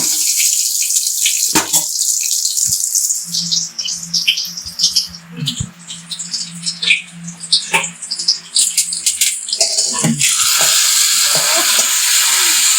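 A tempering of dried chillies and curry leaves poured into fish curry, giving a steady close sizzle with stirring, briefly quieting midway before a loud hiss returns at the end.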